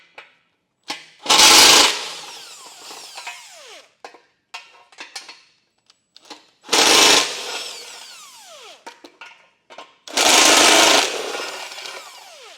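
A power tool fitted with a 15mm socket spins out bumper beam bolts during an EcoHitch trailer hitch installation, in three loud, close bursts of about a second each, separated by quieter clanks and handling noises.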